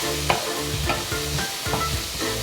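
King oyster and shiitake mushrooms stir-fry in hot oil with a steady close sizzle, broken by repeated scraping stirs of a spatula at a regular rhythm, with no talking.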